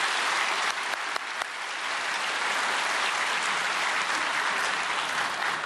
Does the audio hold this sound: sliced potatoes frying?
no